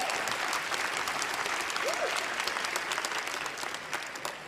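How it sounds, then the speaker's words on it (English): Audience applause at a pride event's closing session, a dense, steady wash of many hands clapping that holds loud throughout and eases slightly toward the end. "Give them a big round of applause."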